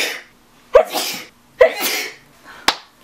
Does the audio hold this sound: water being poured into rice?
no